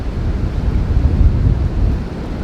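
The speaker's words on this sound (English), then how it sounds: "these gusts are getting pretty scary" Strong wind gusts buffet the microphone outdoors during a bowhunt in the rut, a steady low roar swelling and easing without a break and with no voices.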